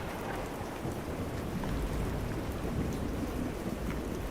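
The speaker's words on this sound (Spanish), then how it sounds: "La tormenta." A thunderstorm rumbles low and steady under a dense, even hiss of heavy rain falling on surfaces. The sound stays constant throughout and no one speaks.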